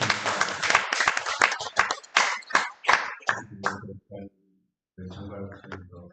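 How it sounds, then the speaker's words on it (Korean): Sharp, scattered claps ring out from a church congregation during a Sunday afternoon praise worship service, uneven bursts that thin out, then a brief silence before more clapping resumes. "하나님 영광 박수 올리겠습니다."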